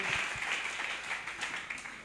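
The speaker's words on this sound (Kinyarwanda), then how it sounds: "Twongere dukomere Imana amashyi" A church congregation claps together in praise of God, a steady fairly distant wash of hands under a faint hum, with little voice heard.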